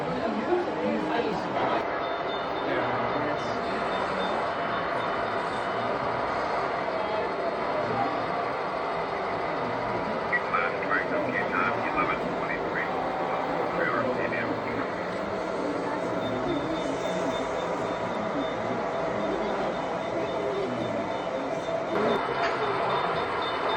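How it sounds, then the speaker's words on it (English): An HO scale model Amtrak train rolls along a club layout with a soft continuous rumble of wheels on track, while people chatter nearby throughout. "here comes one of those little Amtraks I was talking about."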